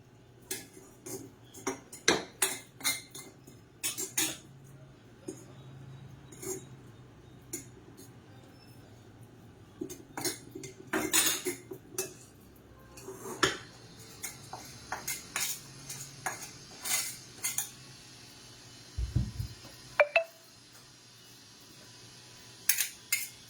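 Fried paneer cubes are tipped into a pot of pink protein-rich soup and stirred in, with a spoon clinking and scraping against the metal pot in scattered, irregular taps and knocks, close by with no talk.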